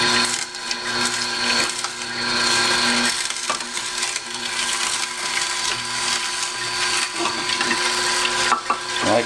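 An Omega NC800 HDR fifth-generation slow juicer grinds produce with a steady, close mechanical whir and crunching, continuous throughout with no talking.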